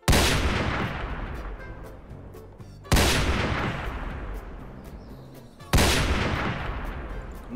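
Three loud, sharp sniper rifle shots in the Roblox game Brookhaven, each with a long decaying echo tail, spaced about three seconds apart with no talking between.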